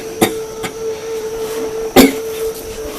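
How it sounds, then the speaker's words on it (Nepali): An older woman coughs in a Nepali short drama set in Darjeeling, with two short, harsh bursts a couple of seconds apart over a steady background hum. "खोकी पुरा लाग्दैछ।"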